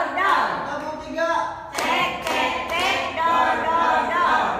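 A group in a clap-chant game claps a few sharp, near beats in between rhythmic chanting voices, the claps sounding as short bursts over the sung call-and-response.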